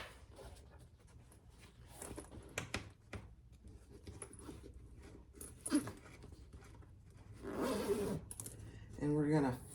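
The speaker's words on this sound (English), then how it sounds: "So I'm going to zip my zipper up." A zipper on a fabric crossbody bag is pulled in quick rasping strokes amid handling rustles, with a person talking briefly toward the end.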